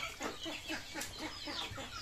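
Chicks at a poultry farm peep and cluck continuously while being given vaccine mixed into milk, a dense, steady chorus of many birds close by with no talk.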